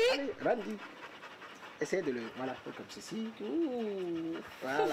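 A Malinois crossed with a German Shepherd pants rhythmically and close, with brief whimpering, while someone speaks to the dog.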